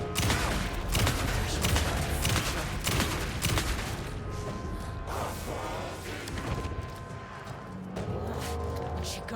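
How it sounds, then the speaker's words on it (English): Rapid gunfire and mechanical clatter from Alan Wake 2, a dense, loud burst of shots with metallic clanks that eases into a steadier churning rumble. "Why are you not shooting the fucking gun?"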